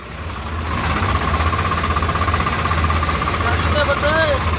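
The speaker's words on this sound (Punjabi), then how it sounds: "ਬਹੁਤ ਜ਼ੋਰ ਮਾਰਦਾ ਆ ਬਹੁਤ ਟਾਇਰ ਘਮਾਉਂਦਾ ਟਰੈਕਟਰ" A tractor pulling a loaded trolley at a village maize harvest labours hard with a loud, throbbing engine drone that builds and holds steady, with voices talking over it.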